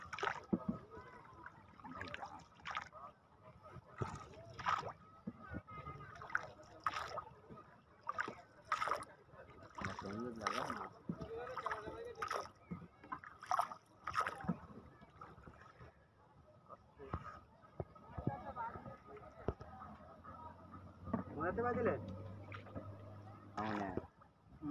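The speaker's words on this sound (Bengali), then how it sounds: "এক ভাই কিন্তু এক বোট তৈরি করেছে, সেটা কিন্তু বাইতে বাইতে আমাদের এখানে চলে আসছে।" A homemade boat being rowed on a river, faint paddle splashes and water trickles spread through the stretch, heard at a distance beneath frequent talking.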